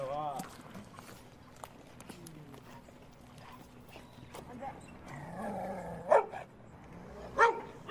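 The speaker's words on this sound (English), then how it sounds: "My God, there's so many dogs here." Several dogs give short barks and yelps here and there, mostly faint with a couple of louder bursts near the end, under steady speech and light footstep-like tapping.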